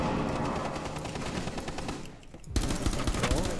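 Rapid bursts of automatic gunfire in a video game, dense and continuous, briefly easing before a louder barrage erupts, with players' voices mixed in.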